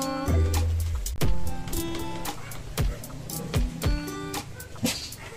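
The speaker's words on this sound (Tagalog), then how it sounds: "Aso!" A dog barks in short sharp bursts, several yips spaced irregularly across the clip, fairly close and loud, with faint whimpering and background rumble between them.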